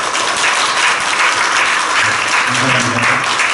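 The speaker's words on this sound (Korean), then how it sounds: "박수로 환영하도록 하겠습니다." A congregation claps steadily in welcome for a visiting pastor's wife and four elders at a Korean church ordination service in Penang, a dense, even wash of applause with faint low voices murmuring beneath near the end.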